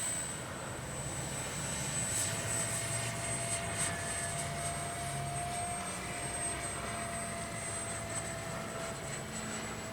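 A Freewing F-22 RC jet with its electric ducted fan whines steadily as it flies, a continuous moderate drone with a thin high tone running through the whole stretch and no talking.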